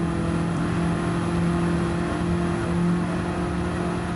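A player-built car in Gran Turismo 7 holds a steady engine drone, a constant hum with a firm low tone that barely changes pitch for a few seconds, with no talking.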